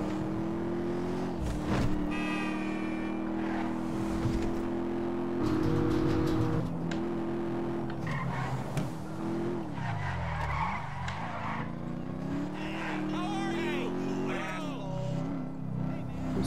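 A car driving and skidding in GTA V, a steady engine drone with a sliding tire screech and changing pitch as it turns, loud and continuous throughout.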